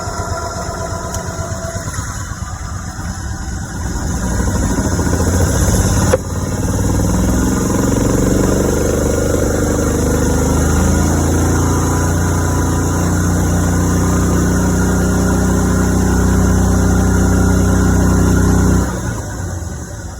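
A car engine cranks and catches, then runs loud and steady as the throttle is held up for a long stretch while the battery charges, dropping off sharply near the end.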